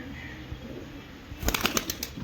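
Soft cooing of a fancier's pigeons, including a mixed-breed Abra pigeon, gives way midway to a loud burst of wing flapping, rapid close whooshes that ripple on to the end.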